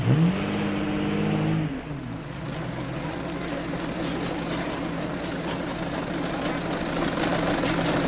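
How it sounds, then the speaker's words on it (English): Antique cars at the start of a race, a Stanley steamer and a Ford Model T, with a steady engine drone and rumble that begins with a brief rising tone and then holds alone at moderate level. "Here is the Stanley steamer, ready to defend its honor against the Model T."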